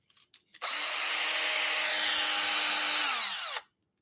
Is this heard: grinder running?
yes